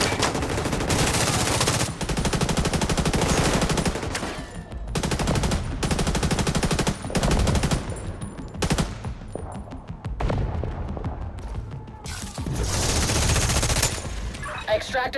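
Sustained automatic gunfire in the shooter game The Division 2 during a fight at City Hall, long loud bursts of rapid shots broken by brief pauses, with voices in the mix.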